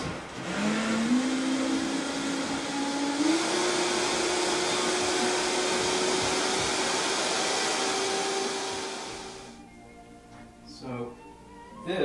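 High-powered blender on a low setting mixes raw vegan chocolate mousse, a loud, steady motor whine that rises in pitch for about nine seconds, then cuts off, leaving quieter clatter.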